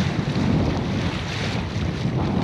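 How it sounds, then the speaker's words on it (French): A sailboat moves under sail without its mainsail while crossing the Gulf of Roses, giving a steady rush of wind buffeting the microphone over low water wash against the hull, continuous and close with no talk. "On avance sous voile."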